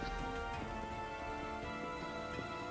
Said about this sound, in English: It's raining inside this throne room.